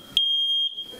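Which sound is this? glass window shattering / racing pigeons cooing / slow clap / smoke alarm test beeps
smoke alarm test beeps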